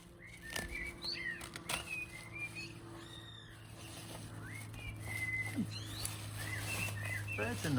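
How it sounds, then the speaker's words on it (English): Birds calling around a newly set-up bird table by the seaside, with scattered whistled chirps and brief wingbeat flutters over a steady low hum, fairly close and moderately loud, no speech. "Birds are noisy."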